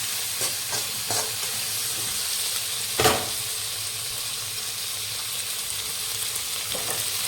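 Chicken sautéing with cumin in a pan gives a steady, fairly loud frying sizzle throughout, with a few clinks of stirring and one sharper scrape midway, and no one speaking.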